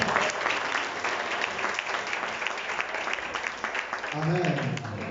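A church congregation bursts into sustained applause and cheering at a worship service, dense clapping that fills the room, with voices rising from the crowd near the end.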